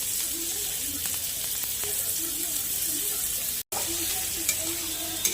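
Onions sizzle steadily in melted butter in a pan, a close, continuous crackling hiss with a brief dropout partway through.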